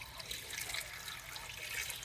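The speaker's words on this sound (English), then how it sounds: "I'm going to add in some water." Water pours into cubed butternut squash in a pressure cooker pot as a soft, steady stream of trickling and splashing. It stays close and fairly quiet for about two seconds, with no talking.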